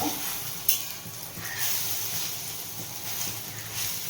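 Pointed gourd fritters frying in hot oil give a steady, close sizzle with faint crackle and a brief clink near the start, no talking.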